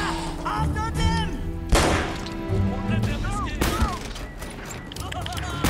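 Gunfire in the video game Uncharted: Drake's Fortune: a few sharp, loud shots crack out amid a busy game mix, with a person's voice talking over much of it.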